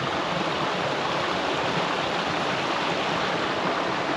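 A small river flows at a trail crossing in the mountains, a loud, steady, broadband rush of water that stays unchanged throughout with no voices.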